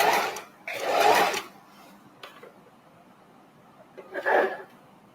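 A sewing machine stitching down small fabric scrap pieces gives two short bursts of whirring near the start and another near the end, with quiet pauses and a faint click between.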